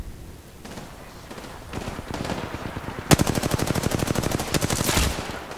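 Automatic weapon fire in Apex Legends: scattered shots at first, then a loud, sustained rapid burst of machine-gun fire, close up and dominating the mix.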